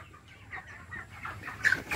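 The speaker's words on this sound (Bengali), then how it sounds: "আমার ফার্মে একটা কালো মুরগি আছে" A black chicken on a poultry farm clucks faintly in short, scattered calls against low background noise, with a brief sharper note near the end.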